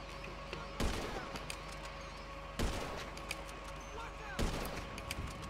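Gunfire in the video game GTA 5, three loud booming shots spaced about two seconds apart, each with a short ringing decay over a steady background hum.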